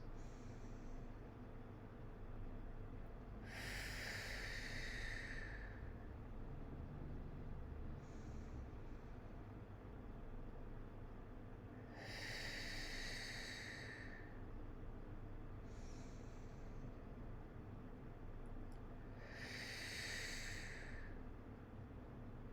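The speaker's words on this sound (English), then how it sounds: "So just a couple deep breaths." Three slow, deep breaths taken several seconds apart during a grounding moment before a movement warm-up, each a soft, airy rush of air, quiet and alone against a faint steady background hiss.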